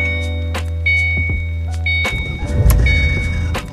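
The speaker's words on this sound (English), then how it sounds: "I don't think they changed the starter, so that's why I hear it squealing." A car's worn starter squeals with thin, sustained whines and clicks. Then the engine catches and settles into a louder rumble.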